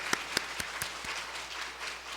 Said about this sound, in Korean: 우리 함께 큰 박수로 환영하겠습니다